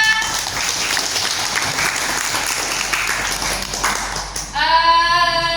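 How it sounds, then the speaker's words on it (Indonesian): An audience, seemingly a class, applauds with steady, dense clapping for about four and a half seconds, then the clapping thins and a brighter, tonal burst rises near the end. "Oke, tepuk tangan dong."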